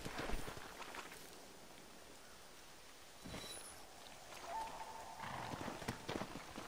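A horse walks in Red Dead Redemption, its hooves giving irregular soft clops against a steady rain-like hiss of outdoor ambience, fairly quiet throughout, with no one speaking.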